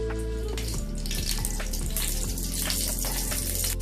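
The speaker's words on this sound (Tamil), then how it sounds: "இப்போ எண்ணெய் ஊற்றிக்கலாம்." Oil poured into a hot frying pan already holding butter, a steady close sizzle and hiss that fills the whole stretch without a break, with a low mechanical hum beneath it.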